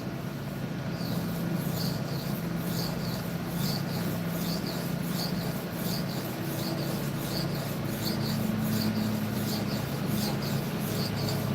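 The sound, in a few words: knife being sharpened on a sharpening stone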